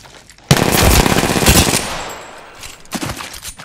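A burst of rapid automatic gunfire in an online shooter video game, loud and sustained for over a second, then fading, followed by a few more scattered shots.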